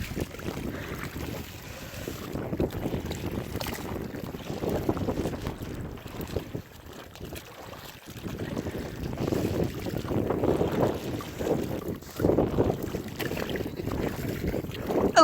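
A yacht under way on open water, heading for an island, with steady wind buffeting the microphone and water rushing along the hull, dipping briefly midway before surging back louder.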